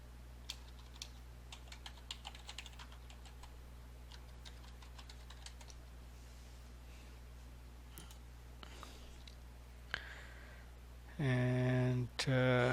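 Quiet, scattered keystrokes on a computer keyboard while a login is typed, a few irregular clicks over a steady electronic hum, ending in a brief louder burst of sound.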